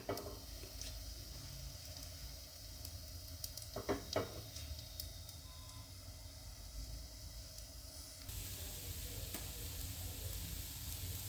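Jackfruit dosa batter cooks on a pan with pure peanut oil, giving a soft steady sizzle and hiss, a brief scraping stir near the middle, and a brighter, louder frying hiss rising toward the end.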